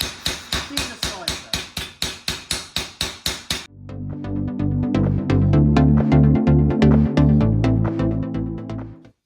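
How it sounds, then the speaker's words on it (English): Steady hammer blows thinning the sides of a light-duty metal tray, a dozen sharp evenly spaced strikes, then a faster run of ringing taps continuing close and loud. "I'm just going to thin the sides"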